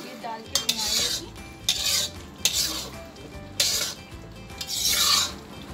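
A spoon stirs and scrapes ghee into mutton karahi in a metal pan, making five rasping strokes with a soft sizzle underneath.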